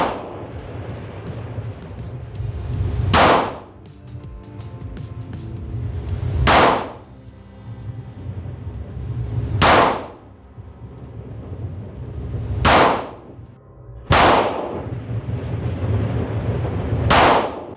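Shots from a Taurus G2C pistol ring a steel target, five sharp cracks with a metallic clang spaced a few seconds apart, loud and close, with indoor range background between them.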